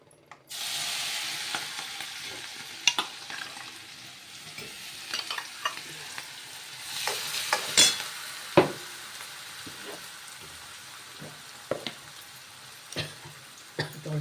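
Chili paste fries and is stirred in a pan, a soft continuous sizzle broken by scattered scraping clicks and taps of the spoon against the pan, close and fairly quiet.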